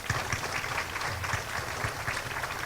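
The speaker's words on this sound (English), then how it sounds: "So I would please like a round of applause for her." Audience applause at an awards event for a lifetime award, a steady wash of many hands clapping that carries evenly through the short moment without letting up.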